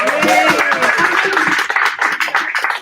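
Loud audience applause at a live comedy show, clapping blended with cheering and excited voices, a full, continuous roar that tapers slightly toward the end.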